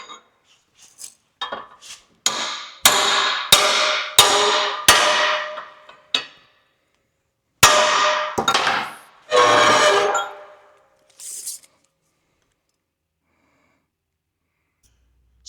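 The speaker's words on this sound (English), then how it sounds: "I'm gonna smack it back in there" A Toyota differential axle part is hammered back into place with a run of sharp, ringing metallic strikes in rapid bursts. A pause follows, then a few more hits, before silence.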